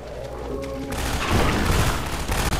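Gunfire in Half-Life 2 erupts into a heavy, booming burst of shots after a quieter start, a dense loud barrage rumbling on for over a second before tapering off.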